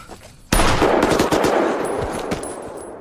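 Gunfire from the TV series Mr Inbetween: a sudden loud burst of rapid shots cracks out after a quiet start, echoing through an urban night setting and slowly decaying.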